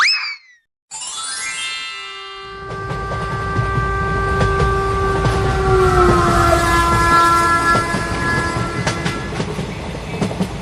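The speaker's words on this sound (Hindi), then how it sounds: "चिंटू बेटा, चलती हुई ट्रेन से बाहर हाथ नहीं निकालना चाहिए।" A moving passenger train blares a long horn and rumbles loudly along the rails with rhythmic clatter and a brief bell-like ding. It is close and continuous, with no one talking.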